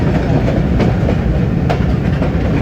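Passenger train rolling on the Jhelum to Lahore line in Pakistan, a loud continuous rumble with rhythmic clickety-clack of wheels over rail joints, heard close from on board with no talking.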